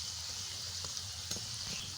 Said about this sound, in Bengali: এই যে ভাজা হচ্ছে প্রায় হয়ে এসেছে